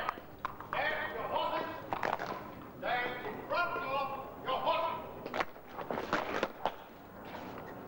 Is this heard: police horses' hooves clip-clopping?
yes